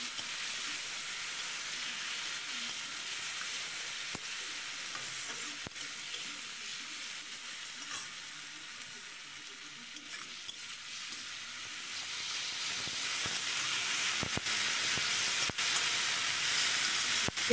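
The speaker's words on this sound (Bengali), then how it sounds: "চিংড়ি মাছটাকে প্রথমে ভেজে নেব।" Prawns fry in hot oil in a wok, giving a steady, close sizzle with light stirring scrapes that grows a little louder and brighter toward the end, with no talk.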